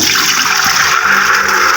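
Soaked chickpeas and water pour into a pressure cooker, a loud, close, continuous rushing splash with no gaps and no talking.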